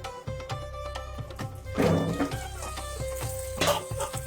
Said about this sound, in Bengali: সবজিগুলো এখন ধুয়ে ফেলো